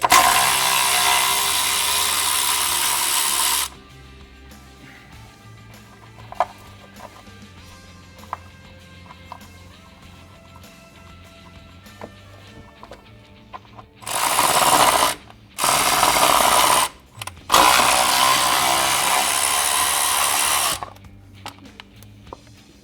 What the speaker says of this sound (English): Then we'll use our 10 mil to remove this ABS mount.